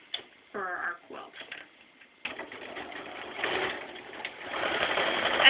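A sewing machine stitches a seam on a T-shirt quilt, running in stops and starts before settling into a steady, close mechanical whir that builds toward the end; a brief murmur is heard near the start.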